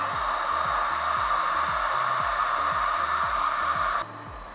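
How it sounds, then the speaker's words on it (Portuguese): A hot air rework station blows steadily while a new memory chip is soldered onto an RTX 3060 graphics card, a loud, even rushing hiss with a low pulsing fan beat, briefly quieter near the end. "Agora a gente vai soldar a nova memória."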